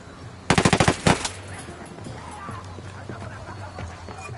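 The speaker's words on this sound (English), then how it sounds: "Heads up, narco with a submachine gun." Submachine gun fire in the Ghost Recon video game: two rapid bursts, one of about six quick shots and a shorter follow-up, loud and close, then quieter background game ambience.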